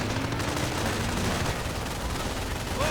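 Machine guns blaze in a WWII strategy game battle, a dense continuous rattle of automatic fire with scattered shots and explosions under it, loud and sustained throughout.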